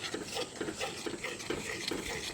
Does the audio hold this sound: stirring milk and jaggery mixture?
yes